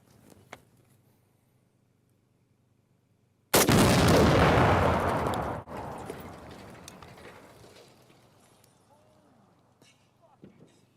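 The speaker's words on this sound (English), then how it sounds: "Let's get a nice big explosion," A large blast erupts suddenly after a quiet stretch, a loud broadband roar that decays over a couple of seconds, followed by scattered debris and shrapnel clatter fading out.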